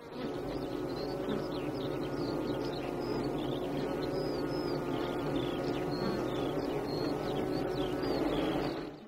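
Honeybees swarming at the hive, a dense continuous buzz from many insects close by, with scattered higher chirps over it and no voices.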